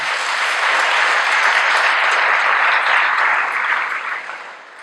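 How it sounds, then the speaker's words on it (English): Sustained, dense applause fills a room at a race and prison system forum in Fresno, an even roar of many hands clapping close and loud for several seconds before tapering off at the end, with no talking. "Let's have another round of applause."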